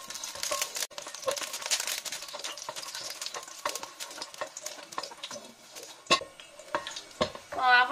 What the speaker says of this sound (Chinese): 我现在把这个不要的这种菜给它炒一下，放里面炒一下